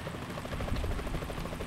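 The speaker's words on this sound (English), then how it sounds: "Is that a chopper I just heard?" A helicopter in Metal Gear Solid 2: Sons of Liberty thrums with a steady rhythmic rotor chop and low rumble, moderately loud and alone.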